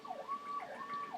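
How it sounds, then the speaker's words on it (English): A wailing siren rises and falls in smooth sweeps, moderately distant, with faint background hum and no talking. "they got all kinds of sirens and stuff going on outside"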